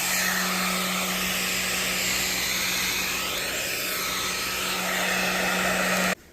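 A hair dryer blows steadily over green coffee beans to strip away their husks, a loud continuous whooshing hum with a faint tonal whine that runs unbroken for about six seconds, then cuts off abruptly.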